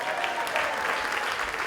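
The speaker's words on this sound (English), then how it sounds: "Give me a round of applause for that." A comedy show audience breaks into applause, a short, steady wash of many hands clapping in a room.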